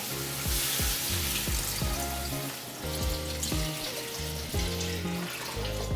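Water poured from a vessel into a pot of North Indian mattar paneer curry, a continuous splashing gush over faint clinks and tonal ringing, close and steady with no talk.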